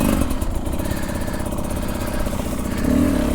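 A Beta 300 RR or Xtrainer 300 dirt bike engine runs steadily under load while riding, a continuous loud buzzing drone with slight swells and no pauses.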